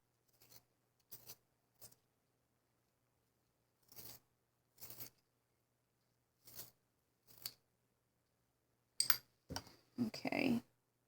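A black Prismacolor Premier colored pencil being sharpened, short scraping bursts repeating with pauses, ending in a longer, louder grinding run.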